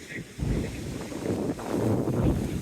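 Gusting wind on the Teignmouth seafront seawall roars across the microphone in low, rumbling bursts, steady and loud with brief lulls.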